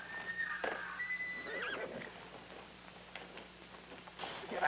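A horse neighs and whinnies loudly in several shrill, wavering calls, with a brief hoof clatter, set in an old television drama scene.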